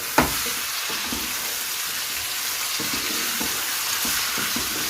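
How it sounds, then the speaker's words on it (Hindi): Chicken frying in oil with ginger-garlic paste in a karahi for Shinwari chicken karahi, a steady loud sizzle with a sharp clack near the start and several soft stirring scrapes throughout. "साथ ही हम अपने इसमें डाल देंगे चिकन, और अब हम इसको फ्राई करेंगे।"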